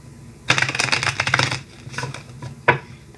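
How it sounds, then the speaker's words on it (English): A deck of tarot cards is shuffled quickly by hand: a dense one-second run of riffling clicks, then a shorter softer burst and a single final snap, close and fairly loud. "So I'm just going to give it a quick shuffle."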